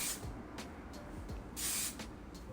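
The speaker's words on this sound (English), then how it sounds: "This is the Got to Be High Insta Hold hairspray." Short pressurized bursts of Got to Be High Insta Hold hairspray from an aerosol can, several quick hissy sprays with one longer blast, close and moderately loud.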